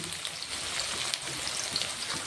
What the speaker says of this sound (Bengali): এবার সবজিটা ভেজে নিব।